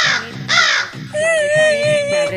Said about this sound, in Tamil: என்னடா காக்கா வாய்ஸ் வருது?